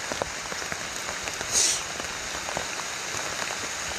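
Rain falling steadily outdoors, a soft, even patter of drops on surfaces that continues without pause, with one brief louder splash or hiss midway and no voices.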